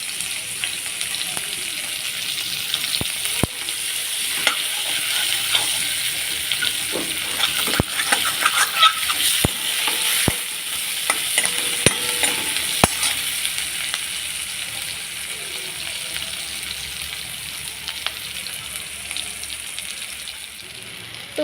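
Chopped onion sizzles and crackles steadily in hot oil in a pan just used for frying fish, with occasional scraping clicks of a spatula stirring, close and continuous with no talking.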